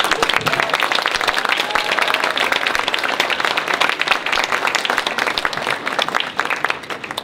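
Dense, continuous applause from an audience at a New Hampshire legislative gathering, many hands clapping loudly and steadily throughout without a pause.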